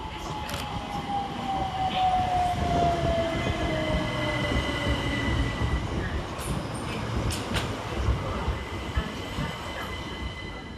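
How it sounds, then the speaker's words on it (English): Two coupled Southern Railway class 377 electric units pulling into Preston Park station in Brighton, a steady near rumble of wheels with a long falling brake squeal at the start and some high metallic squeaks. "Next to arrive into the station is 377455 and 377436, working the 1726 Southern Railway service from Littlehampton to London Victoria."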